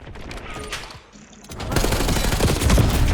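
Gunfire in a multiplayer shooter video game: a quieter stretch with a few sporadic shots gives way to dense, loud, sustained rapid automatic fire that builds toward the end.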